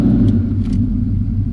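An 800HP Ford SVT Cobra on the road, its engine giving a deep, steady, loud low rumble close by, with no talk over it.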